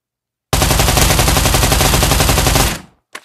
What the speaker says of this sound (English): Let's do the recoil pattern first on full auto.